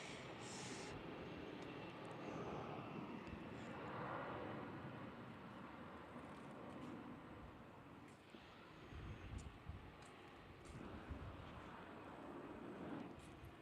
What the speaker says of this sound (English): as you can see that A321 taking off